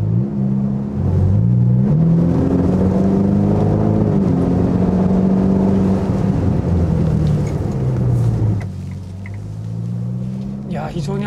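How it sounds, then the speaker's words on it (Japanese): Ferrari with a DCT gearbox heard from inside the cabin while driving, the exhaust droning loudly and rising and falling in pitch through gear changes, with a drop near the end as the engine eases off, someone talking over it. "ものすごくマフラーからの音が室内に入ってくる"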